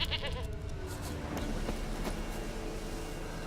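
Goat bleating in The Witcher 3, a short wavering bleat at the start followed by low rumbling background ambience, no talk.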